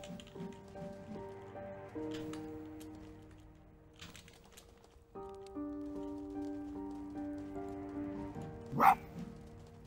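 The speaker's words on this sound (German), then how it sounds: "Aber der bellt nicht mehr so süß." A dog from the video game Spirit of the North barks a few times, soft yips scattered over a gentle melodic music score, with one sharper burst near the end.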